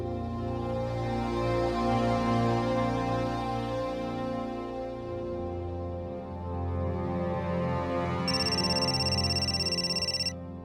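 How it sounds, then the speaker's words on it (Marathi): Background music plays steadily, then near the end a high electronic phone ringtone trills for about two seconds over it. "फोन आलाय."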